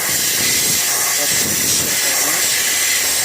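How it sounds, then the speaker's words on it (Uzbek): A loud, steady hiss of compressed air from an air compressor blasting dust off a filter continuously, broad and rushing with no break. "Filtr tepasidan kompressor bilan qovurib olsa bo'ladi."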